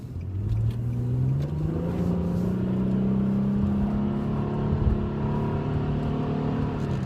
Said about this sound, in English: leave you guys with a little bit of an acceleration just so you could hear this thing